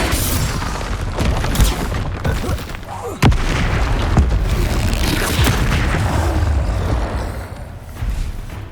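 Confringo blasting-spell explosions in Hogwarts Legacy on PS5: a steady series of loud, booming blasts with a sharp, heavier bang partway through, packed close together over a dense rumble of game noise.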